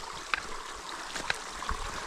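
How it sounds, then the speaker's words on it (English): A mountain stream along a hiking trail in Japan, flowing with a steady rushing wash broken by small gurgles and splashes, close by and continuous, without talk. "Not a waterfall, but you have to walk up the stream."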